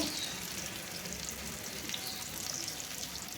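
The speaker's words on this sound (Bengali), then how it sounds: "এরপরে আমি এতে পেঁয়াজ কুচি দিয়ে দিচ্ছি" Chopped onions fry in hot oil with whole cinnamon, cardamom, cloves and bay leaf for a papaya dish, making a steady, close crackling sizzle that runs throughout with no voices.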